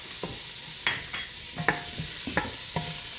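Garlic fries in a pan while a utensil stirs it, giving several distinct scraping clicks over a soft, steady sizzle, close and fairly quiet.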